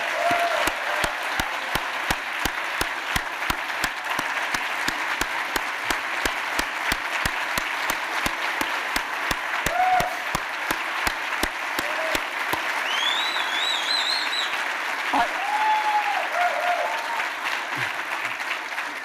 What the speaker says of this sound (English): Let's have a big round of applause for every Metro first responder.